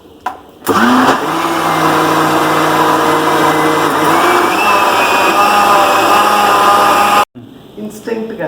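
A mixer grinder blends chopped carrots with water, sugar and milk into juice, a loud steady motor whine that runs continuously for several seconds before cutting off abruptly, with brief clatter afterwards.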